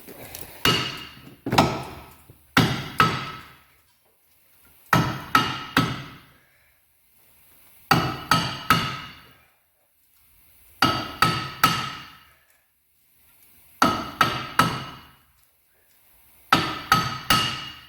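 Metal hammer blows on a brake disc being knocked off a wheel hub land in quick bursts of two to four sharp clanging strikes, with short pauses between groups, loud and close, no talking.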